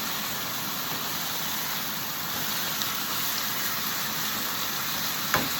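Steaks fry in a hot pan with a steady, even hiss, close and moderately quiet, with a small clink near the end.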